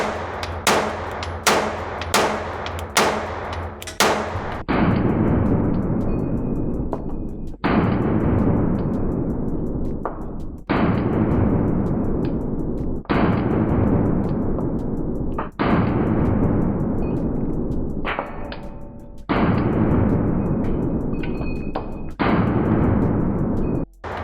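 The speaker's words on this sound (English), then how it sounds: "I'm gonna try the bigger of the two handguns. Now this one has a dot on it." A Staccato pistol with a red dot sight is fired repeatedly outdoors, first a quick string of sharp cracks, then single loud shots spaced several seconds apart, each ringing out with a long decaying echo.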